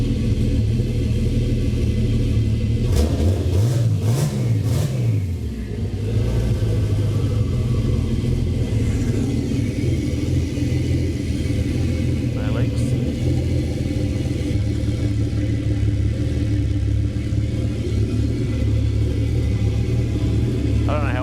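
A turbocharged V12 engine swapped into a Toyota Cressida runs loudly and steadily, with a deep continuous rumble and a brief surge early on, while people talk nearby.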